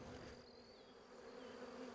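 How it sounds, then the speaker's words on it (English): Forager honeybees swarming on a tree, a continuous dense buzz of many bees, steady and fairly close, with one bee drifting past, no talk. "there's a lot of bees on this tree, and I'm sure you can see them all buzzing around and hear them"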